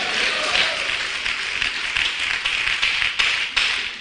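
A church congregation applauds during a Spanish-language evangelical service, a continuous mass of clapping with a few sharper individual claps standing out near the end.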